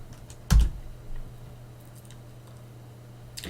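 Keystrokes on a computer keyboard while entering terminal commands for ROS robotics work, with one sharp near tap at the start, a soft second keypress and a faint click at the end over a steady low hum.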